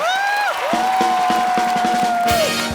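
A studio audience on a Hindi comedy talk show cheers and whoops for the Great Grand Masti cast and director Indra Kumar. The crowd noise runs steadily throughout under loud sweeping tones and a rhythmic band sting.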